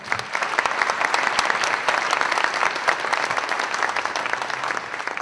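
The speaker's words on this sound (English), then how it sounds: "Please join me in a round of applause for Island Savings and Peninsula Co-op" Steady, loud applause from a crowd at an annual general meeting, dense clapping that carries on evenly throughout.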